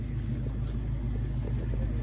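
A black Ford Mustang Fastback's engine rumbles steadily at close range, a low continuous drone with no clear revving.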